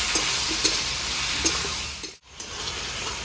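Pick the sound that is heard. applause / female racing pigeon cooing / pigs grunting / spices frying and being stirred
spices frying and being stirred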